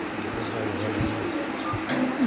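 Pigeons brought from Dubai coo on a rooftop loft, a few low throaty rolling calls close by over a light background hum, with no talking.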